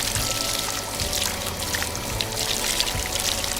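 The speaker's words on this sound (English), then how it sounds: "Water begins to flow from the plastic pipes into water ducts." Water pours from plastic pipes into garden water ducts, a continuous splashing, trickling flow, close and fairly loud with no voices.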